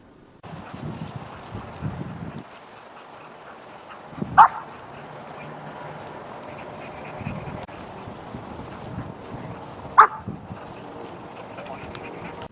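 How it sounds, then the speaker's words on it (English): A dog barks on command during training, giving two short, sharp barks several seconds apart against a quiet room, with a person talking softly in between. "now I get one bark"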